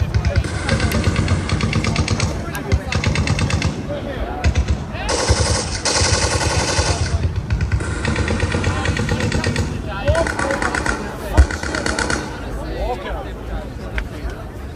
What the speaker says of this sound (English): You'll hear the sound of those very powerful engines in both the Sopwith and the Fokker triplanes that give them their speed and their agility